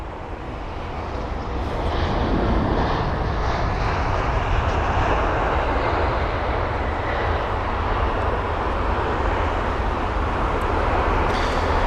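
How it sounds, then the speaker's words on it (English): An Airbus A320neo airliner lands at London Heathrow with a broad, loud jet roar. The roar builds over the first two seconds, then holds steady and strong for the rest of the clip, with no voices over it. "that was the A320 Neo, or BA801 from Reykjavik"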